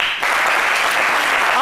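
A TV studio audience applauds a celebrity's mother, loud, dense steady clapping throughout after a brief softer start.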